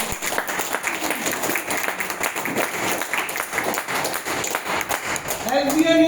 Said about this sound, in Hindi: जोरदार ताली चाहूंगा।